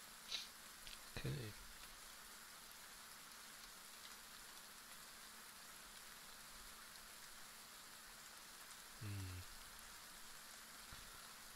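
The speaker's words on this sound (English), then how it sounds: "Enjoying the sound of the rain." Steady rain falls throughout, a continuous broadband hiss at low level with no distinct drops, broken only by a couple of brief low knocks near the start and again later.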